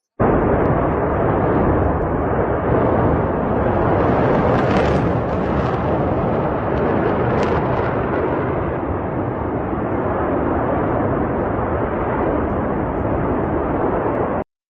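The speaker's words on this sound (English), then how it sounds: "The explosion of the main gas pipeline near Omsk is burning phenomenally." Main gas pipeline explosion and fire near Omsk, Russia, heard as a continuous, loud roaring rumble of burning gas, steady and dense for the whole span with no talk over it.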